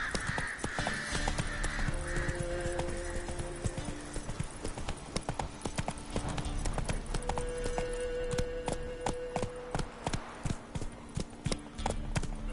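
Horse hooves clip-clop steadily in The Witcher 3 as the rider urges the mount on, a clear rhythmic trot under game music and ambient crow caws, with occasional scattered other sounds.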